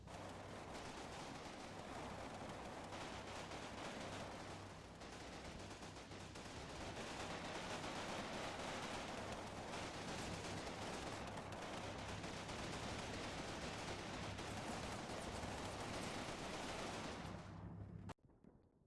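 German machine guns and mortars fire on infantry platoons attacking a wood in a Second World War battle, a dense, sustained roar of rapid gunfire and blasts that runs unbroken for many seconds before cutting off abruptly.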